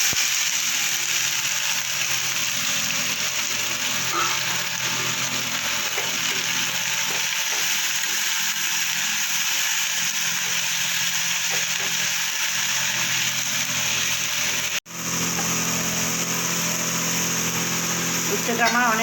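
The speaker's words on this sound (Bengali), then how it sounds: "তেলটা আমার গরম হয়ে গেছে, এবার আমি কেটে রাখা উচ্ছেগুলো দিয়ে দেবো।" Sliced bitter gourd frying in hot oil with dried red chillies and nigella seeds, a loud, continuous close-up sizzle broken by one sharp knock late on.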